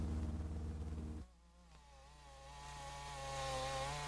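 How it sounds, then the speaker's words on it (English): Chainsaws cut through thick trees for pulp in Alaska's Tongass National Forest: a loud buzzing saw whine drops off abruptly, then a second engine revs and rises steadily in pitch and volume. "Chainsaws cutting swaths across the thick trees for pulp."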